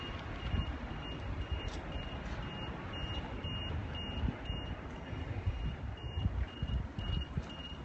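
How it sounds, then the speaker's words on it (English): Rapid electronic beeping from a Wind Rider personal vehicle ridden through the streets of Central London: thin, evenly spaced pips in short runs, riding over loud, continuous wind and traffic rumble. "Oh, my machine's beeping."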